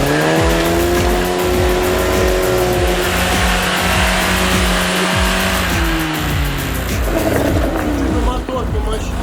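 A Lada Niva SUV off-road churns its engine loudly and nearby, revving and labouring in rising and falling surges with gritty rumble, while people talk over it.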